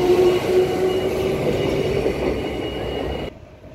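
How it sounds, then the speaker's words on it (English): Two coupled EMU electric trains, four cars in all, pull out of a station platform bound for Perth, giving a loud, close, steady rail rumble with faint wheel noise that cuts off abruptly near the end. "EMU's 2 and its friend leaving platform number 1, heading straight to Perth."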